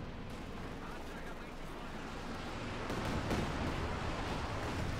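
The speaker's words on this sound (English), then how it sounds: "Rockets indiscriminately flung down, but not quite hitting anything" Rockets rain down in a Company of Heroes 2 battle as a dense, continuous roar of blasts and crackling impacts, rising slightly toward the end and heard alone, without talk.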